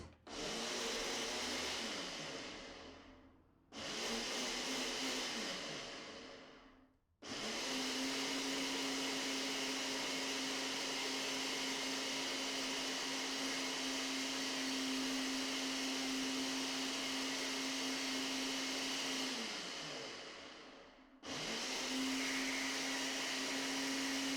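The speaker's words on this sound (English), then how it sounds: "I've got everything in my blender, and I'm just gonna put this on Ultra Blend." Blender on a high Ultra Blend setting processing a spinach smoothie: a loud, steady motor whir that runs in several bursts, stopping and restarting, with a long continuous stretch in the middle and no voices.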